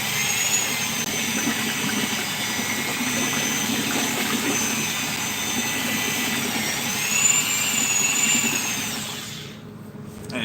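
A power whisk whirs steadily and loud up close, stirring liquid for lure making, a continuous high buzz that cuts off near the end.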